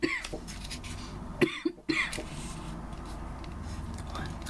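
A person coughs several times in short bursts, close to the microphone, with faint room noise between the coughs.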